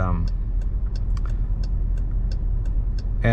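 An all-wheel-drive car cruises on a city road, with a steady low engine and road rumble and a turn-signal ticking in an even rhythm from inside the cabin, and a voice speaking briefly at the edges.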